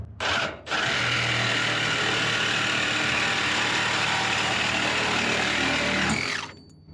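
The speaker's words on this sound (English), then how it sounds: "Just try to keep the saw level." A power saw cuts steel tubing in a pickup bed for a Honda van-truck conversion, giving a loud, close, continuous grinding whine for about six seconds that then cuts off.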